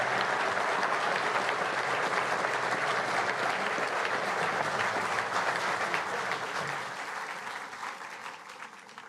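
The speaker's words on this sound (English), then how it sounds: "Round of applause." A large audience at a security forum applauds after a minister's remarks, a full, dense wash of clapping that holds steady for several seconds and then gradually thins and fades.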